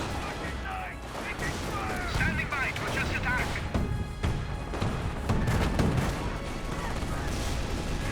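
Rapid gunfire from a quad half-track in the Company of Heroes World War II strategy game, with repeated bursts and distant explosions in a busy battle mix, while a voice talks over the action.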